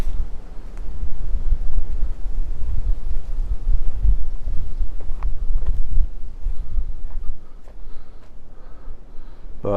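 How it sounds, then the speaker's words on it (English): Steady wind at a forest overlook in James Kennedy State Forest buffets the microphone with a low, rumbling roar throughout, gusting unevenly and easing slightly toward the end. "Starting to get windy"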